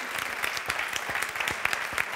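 A small audience at a tech conference dev quiz applauds a participant, a short burst of brisk, moderately loud clapping with individual claps audible.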